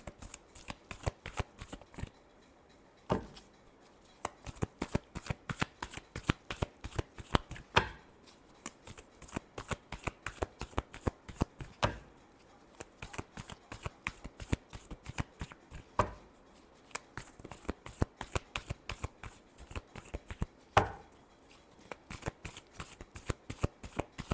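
Tarot cards shuffled by hand in a long run of quick, crisp riffling flicks with a few short pauses, close and fairly loud, with no talking.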